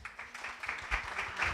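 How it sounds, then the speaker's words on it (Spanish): Applause from a seated audience welcoming a speaker at a literature talk, a scattered patter of clapping that swells and fades in waves, moderately distant and fairly quiet. "Con un aplauso recibimos entonces Zulma Esther Prina."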